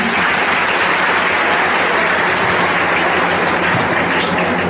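Sustained applause from a seated audience at a personality development training session in Dharmapuri, steady and loud throughout with no speech over it.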